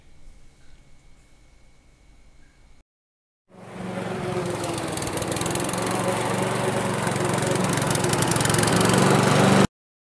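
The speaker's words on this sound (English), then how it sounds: "Lawnmowers are way too loud." A gas lawn mower engine starts up after a brief gap and runs at a loud, steady, droning pitch for several seconds, close by, then cuts off suddenly.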